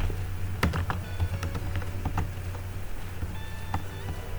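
Someone types code on a computer keyboard, with close, irregular clicks and taps coming in short bursts over a low steady hum.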